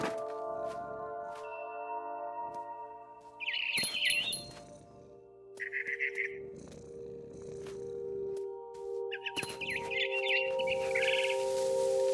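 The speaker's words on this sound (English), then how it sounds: "It was a barn swallow going back to her nest." A barn swallow in the game What Remains of Edith Finch chirps in short, bright, repeated bursts. They come in several separate clusters over a low, purring game ambience.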